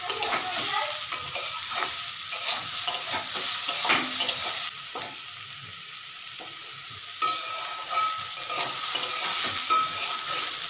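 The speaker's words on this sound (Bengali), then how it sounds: "আলু চিচিঙ্গাটা সিদ্ধ হয়ে গেছে, এখন শুধু একটু ভাজা ভাজা হওয়ার পালা" Potato and ridge gourd frying in a pan, a loud continuous sizzle broken by repeated scraping stirs, dipping quieter for a couple of seconds midway before resuming.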